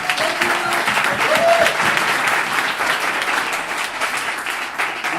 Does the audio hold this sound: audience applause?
yes